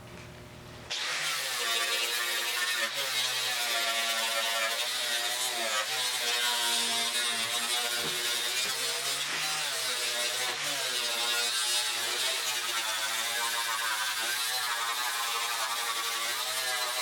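A power tool cutting out the rusted door bottom of a 1974 Triumph TR6, a loud continuous high buzzing whine with slight pitch wavering that starts abruptly and runs steadily to the end, close to the mic.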